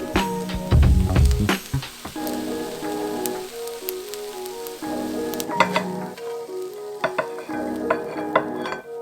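Hot food sizzles in a pan as greens steam underneath, with soft crackling, scraping and clinks from stirring, close by and moderately loud, and no talking.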